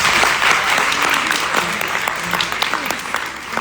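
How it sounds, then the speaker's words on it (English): A debate audience claps steadily for the speakers, a dense, sustained round of applause from a crowd heard up close. "let's give our speakers a round of applause"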